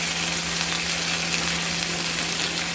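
Chopped tomato frying with browned onions in a pan, a loud, continuous close sizzle with a steady low hum beneath it and no talking.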